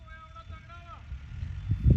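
Tractors roll past on a village farm track by irrigated wheat fields, a low engine rumble building and growing louder toward the end, with a short tonal whine early on and voices talking nearby.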